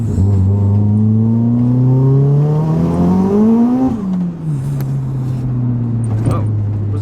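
A 406bhp Vauxhall Corsa VXR engine revs up with a rising, whining tone that climbs for about four seconds, then drops to a steady lower drone. Loud and close, with a brief dip in level after the peak.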